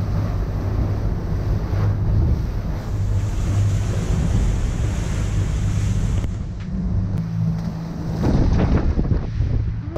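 Sea waves surge around a Lagoon 42 sailing catamaran on a passage from France to Croatia, a steady broadband wash of water and hull noise with heavy wind buffeting on the microphone throughout, no voices.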